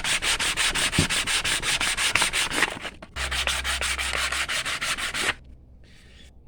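Sandpaper wrapped around a small wooden block is rubbed by hand over a wooden decorative sign, giving fast, rhythmic, close scratchy strokes that pause briefly midway and then stop, leaving quiet room noise.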